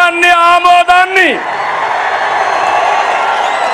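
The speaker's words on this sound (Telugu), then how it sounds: "గట్టిగా చప్పట్లు కొట్టి హర్షాన్ని, ఆమోదాన్ని," A crowd at a public political meeting bursts into steady clapping and cheering right after a single amplified voice, the broad applause continuing loud and unbroken to the end.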